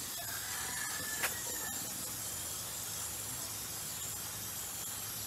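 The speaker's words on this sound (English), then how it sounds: "Spray some water." A steady hiss of water sprayed over freshly planted seeds runs continuously, with a brief squeaky chirp near the start.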